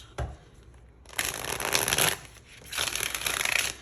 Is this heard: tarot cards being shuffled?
yes